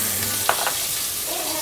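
Beef browns in bacon fat for a Louisiana boeuf en daube, a loud steady sizzle close up with a brief stirring scrape partway through.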